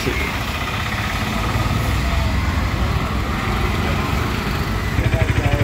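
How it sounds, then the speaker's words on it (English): A Bajaj Pulsar RS200 engine idles steadily and loudly throughout, a continuous low rumbling drone with no revving. "So now I'm going to run the bike on idle."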